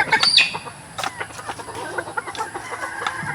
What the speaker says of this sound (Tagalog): So, magpapakain tayo ng ating mga rooster.